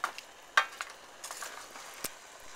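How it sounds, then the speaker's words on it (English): A pot of vegetable curry comes up toward a boil, giving faint bubbling and sizzling broken by a few sharp spoon clinks against the pot. "As it starts to boil, I'll turn it down. I'll let it simmer."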